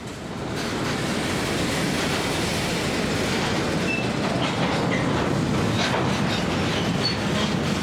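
GP38-3 diesel locomotive train rolling past on the CF&E Railroad: a loud, steady rumbling roar of engine and wheels with rail clatter and occasional faint squeals, close by and sustained throughout.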